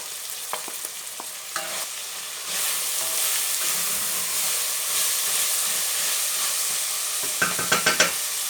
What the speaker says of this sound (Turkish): Biraz böyle etimizi kavurduktan sonra soğanımızı da içine ilave edelim.